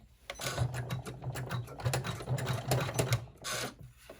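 Embroidery machine stitching a thick flapped purse, a rapid rhythmic mechanical clatter with a steady low hum, continuous and close, running alone without talk.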